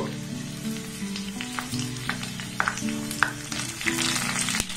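Ingredients and curry leaves frying gently in a pan over a low gas flame, giving a soft, steady sizzle with occasional crisp crackles and stirring clicks over a quiet tonal background hum.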